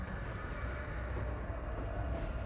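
A train rumbles steadily past at a station platform, a continuous low, dense roar with no breaks and no voices.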